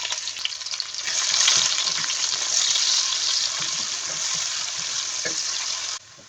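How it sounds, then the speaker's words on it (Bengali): A cup of chopped onions fries in oil with garam masala in a pan, a loud steady sizzle with occasional stirring taps, close up and alone, cutting off near the end. "পেঁয়াজটা ব্রাউন কালার করে ভেজে নেব"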